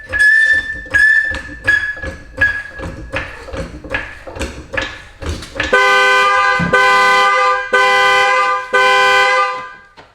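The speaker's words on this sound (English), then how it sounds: "Y'all see my alarm just went off" A Corvette's car alarm blares while the car is being jacked up, starting with repeated short horn-like honks then switching to a loud, continuous multi-tone wail cycling in long pulses, close and with no talking.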